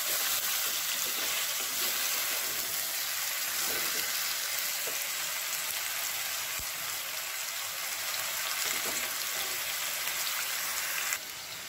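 Quail pieces cooking in a pan with garlic for curry, a loud, steady sizzle and hiss of frying with faint stirring scrapes, continuous and close.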